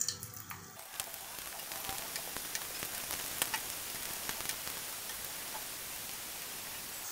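Rice balls dropped into hot oil on full flame, a dense, even frying hiss that swells after a short clatter at the start and then holds steady and fairly loud, with a few small pops.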